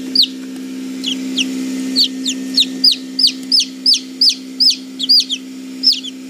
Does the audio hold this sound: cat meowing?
no